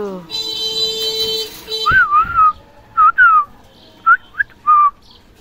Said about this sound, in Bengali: এই হচ্ছে আমার পাখি